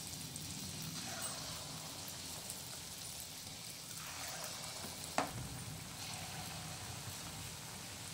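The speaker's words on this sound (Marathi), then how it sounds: "आता आपलं तेल तापलेलं आहे। असं आपल्याला छोटे छोटे भजे घालून घ्यायचं आहे।" Small sweet wheat-flour gulgule fritters drop into hot oil and fry with a steady, soft sizzle and bubbling hiss, a brief splash near the middle, heard close with no talking.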